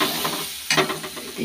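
Spice paste of cumin, garlic, green chili and ginger frying in a pan, a loud close sizzle with scraping stir strokes over a brief moment.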